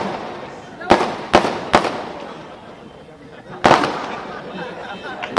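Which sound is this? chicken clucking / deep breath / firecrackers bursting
firecrackers bursting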